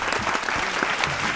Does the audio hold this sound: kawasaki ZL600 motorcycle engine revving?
no